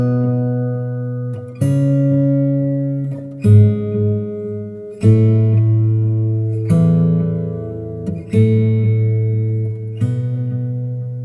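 Guitar picking single root notes of a chord progression, about seven clear plucks spaced roughly every one and a half seconds, each ringing out and fading before the next, with no voices.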